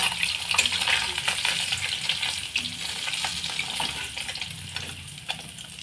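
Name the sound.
parshe fish frying lightly in oil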